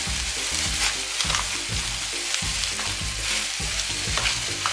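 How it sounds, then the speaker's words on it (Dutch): Limburg sour meat stew in a pan, stirred in a steady rhythm of repeated spoon scrapes over a constant close sizzle and bubbling. "Goed blijven roeren, want anders bakt hij en bakt hij ook aan"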